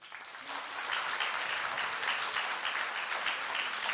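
A crowd at a sports awards ceremony breaks into applause that swells in the first second, then holds as a thick, steady wash of clapping with no voices on top.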